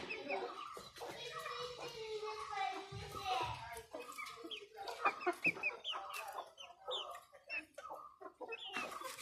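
Native hens and chicks clucking and cheeping close by, a busy stream of short calls and peeps with a brief louder burst, mixed with people talking.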